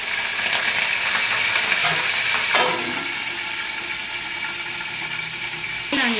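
Whole spices including cloves, cinnamon, cardamom, pepper, star anise and mace, with chillies, frying in oil for a Hyderabadi chicken dum biryani tempering; a steady close sizzle and crackle that eases slightly after a brief stirring clatter.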